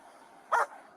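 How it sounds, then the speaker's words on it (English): A police K9 dog lets out a single sharp bark at mid-distance during a tense roadside arrest, standing out briefly above a low background hum. "I don't know why there's a dog. I assume that's police K9."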